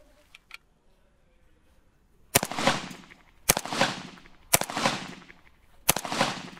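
AK rifle shots fired at level 4 body armor, four loud sharp cracks spaced about a second and a half apart, each with a rolling outdoor echo, after faint clicks.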